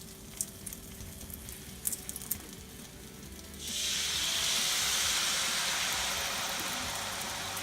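Chicken sizzles loudly in teriyaki sauce in a wok on medium heat, a steady close hiss that swells suddenly partway through and holds, after a few faint clinks.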